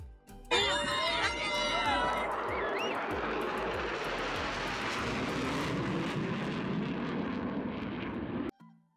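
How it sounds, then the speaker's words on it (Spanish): Loud roar of airplanes passing overhead during a Chilean national holiday celebration, a continuous jet rumble sweeping by, with faint crowd murmur beneath. "qué bonito pasan los aviones ahí, muy rápido"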